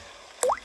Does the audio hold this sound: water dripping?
yes